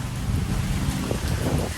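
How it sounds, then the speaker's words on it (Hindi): Heavy rain falling in Karachi, a steady dense wash of downpour with low rumbling undertones, continuous and fairly loud throughout, no voices. "बहुत तेज़ बारिश है"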